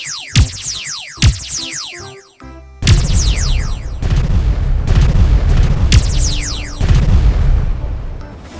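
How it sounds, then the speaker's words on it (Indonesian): Loud synthetic laser zaps with descending sweeps in GTA 5, followed by heavy booming explosions rumbling one after another, dense and close. "meledak sampai hancur pemirsa. Mengerikan sekali senjata laser itu."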